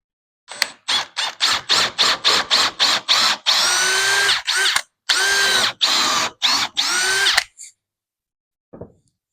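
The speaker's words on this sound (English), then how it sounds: "Use the 10mm drill bit." A power drill fitted with a 10mm bit bores a hole while fitting a floating shelf, first in a quick run of short bursts, then in longer loud runs of whining drilling, close by.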